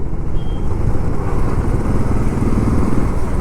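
Motorcycle engine droning steadily on a dusty road trip in Sikkim, a continuous loud rumble with wind noise throughout and no talking.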